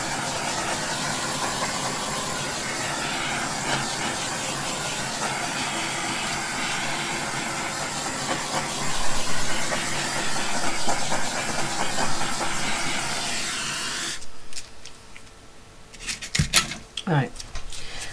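Small torch hissing steadily and loudly over epoxy ribbons laid on a silicone mat, a continuous rushing blast that cuts off near the end, leaving faint clicks and handling noises.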